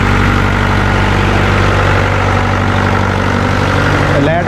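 A housing society's power generator engine runs at a steady idle, a loud close droning hum with even vibration throughout, ending with a brief clatter at the end.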